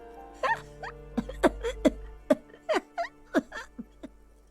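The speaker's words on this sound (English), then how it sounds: "The cleaning lady starts laughing, but it turns into a violent coughing spasm." A cleaning lady's laugh in the video game Disco Elysium breaks into a fit of violent coughing: a string of sharp, rasping bursts, close and fairly loud, in an irregular rhythm over a low steady hum.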